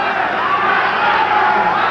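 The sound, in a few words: boxing crowd shouting at the referee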